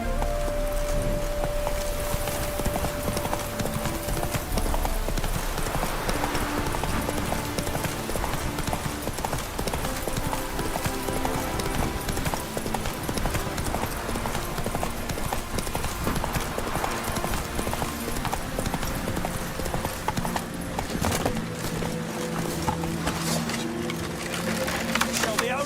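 Horse hooves clip-clopping steadily while being ridden in The Witcher 3, a continuous rhythmic trot under game music and ambient sound, with brief voices in the mix.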